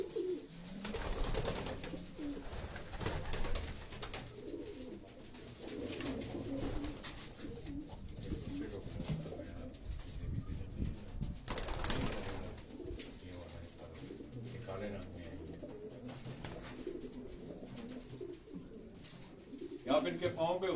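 Caged pigeons coo in low, repeated murmurs throughout, with someone speaking over them at close range and brief rustles from the birds.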